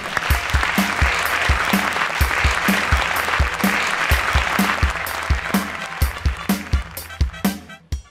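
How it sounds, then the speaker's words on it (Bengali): An audience at the 2023 Kool BSPA sports award ceremony claps in steady, rhythmic bursts. The loud applause continues throughout and fades toward the end. "করতালি দিবেন"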